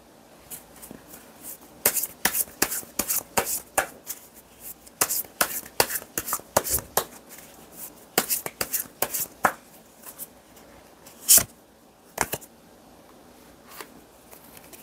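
Tarot cards being shuffled by hand, with a close series of quick riffling slaps and clicks in irregular bursts, quiet between them.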